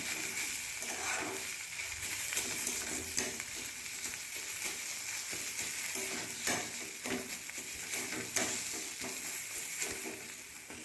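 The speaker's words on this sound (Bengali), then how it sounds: "এবার আরও একবার ভালো করে নাড়াচাড়া করে এটাকে মিক্স" Chana dal and bottle gourd peel stirred together in a pan, soft continuous frying hiss with repeated faint spoon scrapes throughout, fairly quiet and close.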